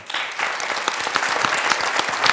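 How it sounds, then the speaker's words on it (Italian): An audience applauds teacher Lori Dineson, a dense burst of many hands clapping at steady loudness, close and continuous for a couple of seconds. "salutiamo con un grande applauso Lori Dineson"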